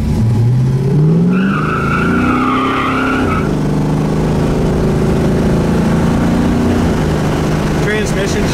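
Classic Oldsmobile 442 muscle car driving, its engine note rising and dropping as the automatic transmission shifts, steady road and engine noise from inside the car with someone talking over it.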